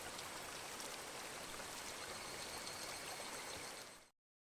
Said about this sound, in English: That, like, just water flowing noise.